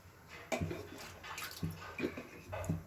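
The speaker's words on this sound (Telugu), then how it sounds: "ఒక గిన్నె పెట్టి ఇందులో రెండు గ్లాసులు వాటర్ పోసుకోవాలి" Water pours and splashes into a pot in a steady stream for a ragi drink, with a few soft clunks of the vessel, close by and fairly quiet.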